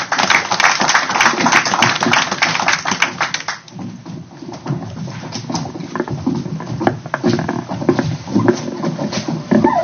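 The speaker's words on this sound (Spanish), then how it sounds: "La recibimos con un fuerte aplauso" Audience applause at a heritage study event for the Sondondo Valley held in a congress hall, dense patter of many hands clapping steadily, easing slightly midway then continuing with scattered murmurs underneath.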